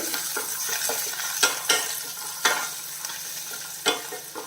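Chopped ginger and garlic fry in a pan for a ladies finger (okra) curry, with a continuous sizzle broken by several sharp scraping stirs of a utensil against the pan, close and alone.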